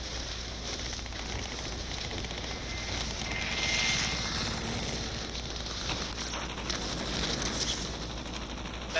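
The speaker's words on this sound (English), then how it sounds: "They in a fucking chopper, bro" Video game helicopter passing overhead, a broad rushing engine and rotor roar that swells around the middle and slowly fades, fairly loud and continuous without speech.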